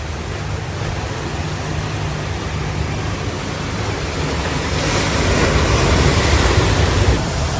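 Sea waves break in front of a Japanese bath at Saint Barth as a steady roaring wash of surf, swelling louder toward the end, with some wind buffeting and no voices.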